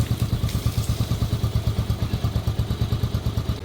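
A hot motorcycle engine giving off smoke idles nearby, its rapid, even exhaust pulses thumping at a steady beat with faint clatter and no voices.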